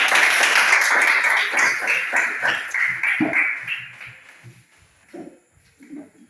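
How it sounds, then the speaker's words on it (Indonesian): Classroom pupils clap for a group of classmates, a burst of fairly close applause that fades over a few seconds, followed by a few scattered claps and quiet knocks. "tepuk tangan untuk kelompok"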